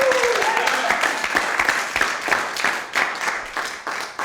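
A live audience claps and cheers in a sustained, dense burst of applause with rhythmic hand claps, filling the room throughout.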